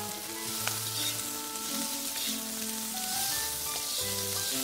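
Paneer chilli with chopped green onion being stir-fried over a high flame, a loud continuous sizzle with tonal hum and scraping of a spatula throughout, no voices.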